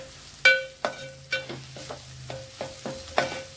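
Wet jawla shrimp being sautéed with ginger-garlic paste, a spatula scraping and stirring the pan in repeated sharp strokes over a low sizzle, close and fairly quiet, with no talk.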